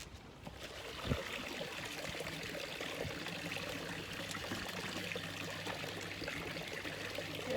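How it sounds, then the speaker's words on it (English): Pond treatment poured from a container into an outdoor koi pond, a steady broadband splashing trickle running throughout at moderate level, with a faint low hum underneath. "it's straightforward enough to pour it around the pond."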